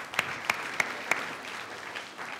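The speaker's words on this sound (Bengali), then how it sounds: "তাই দুজনের জন্য আমরা জোরে একটা করতালি দিই।" Studio audience applause at a Bangladeshi talk show, a steady wash of clapping with a few sharper claps standing out, moderately loud and continuous throughout.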